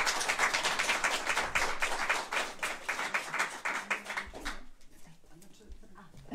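Audience applause breaks out at a district literary competition award ceremony, a dense, steady patter of many hands clapping that fades out after about four and a half seconds, leaving a quiet room.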